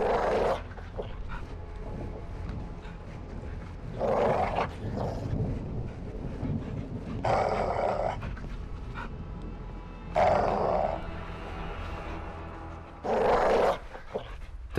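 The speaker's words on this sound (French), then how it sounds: "T'as vu le chien en cage? Le molosse" A mastiff in a cage growls and snarls inside the Call of Duty: Modern Warfare II campaign, several deep rough bursts recurring at intervals over a low continuous rumble of game ambience.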